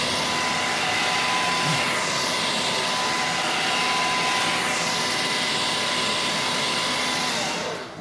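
A blow dryer heating the adhesive on a Ford Focus ST quarter window runs continuously at close range, a steady airy whirring roar with a faint motor whine, easing off slightly at the very end.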